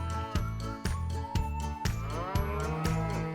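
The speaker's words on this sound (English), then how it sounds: "They had 4 sweet, gentle cows" Cows moo over a steady, rhythmic music backing, with regular beats and low tones filling the mix.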